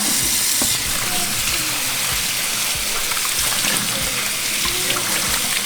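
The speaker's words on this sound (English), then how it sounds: "So we're just going to drain it and rinse it." Cooked hominy for menudo is drained and rinsed, and running water pours in a loud, steady rushing splash with small knocks from the pot and colander. No one speaks over it.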